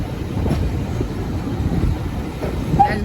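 The 9F steam locomotive 92214 moves along the Great Central heritage railway, giving a steady mid-distance rumble of rolling stock with faint rail clatter and no talk.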